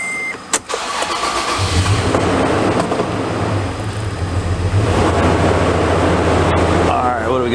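A Toyota FJ engine cranks and catches, then settles into a steady, loud idle with a low hum that runs to the end. A brief click comes first, and some sound from the workshop is heard alongside the engine.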